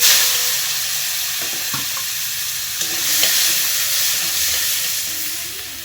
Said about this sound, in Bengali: একটু কালো জিরা দিয়ে দিলাম আর দিয়ে দিলাম একটু পেঁয়াজ কুচি